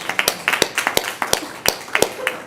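A few people clap sparsely at a school board of education meeting, irregular sharp claps close by in a small room, with no one speaking over them.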